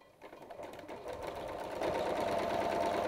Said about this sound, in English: And literally, you just top stitch down the edge there.